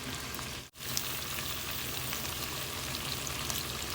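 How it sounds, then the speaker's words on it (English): Shrimp fry in butter with a steady, dense sizzle and crackle, close and continuous, with a brief break early on as the pan is stirred; no voices. "Just stir our shrimp so all the sides will be cooked"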